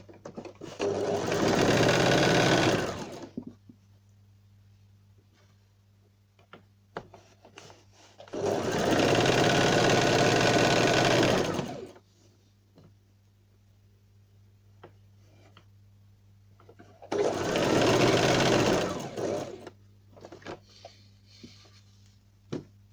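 A sewing machine stitches kurti fabric in three loud, steady bursts of rapid mechanical whirring, each a few seconds long, separated by quiet pauses with a low hum and small handling clicks.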